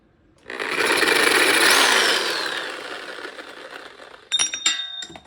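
Power tool cutting a metal part for an electric motor mount on a bead roller, a loud sustained whine that spins up, holds and winds down, followed by a few metallic clanks.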